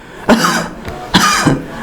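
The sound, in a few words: forceful cough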